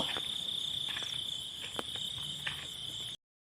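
Crickets chirping at night, a steady high-pitched trill continuing throughout with a few faint clicks, quiet and alone.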